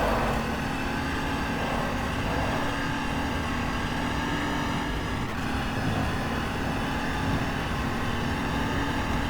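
A 2012 Audi R18 Ultra endurance race car in the GTR2 racing game roars steadily at high revs, a dense, unbroken engine drone held at constant loudness throughout.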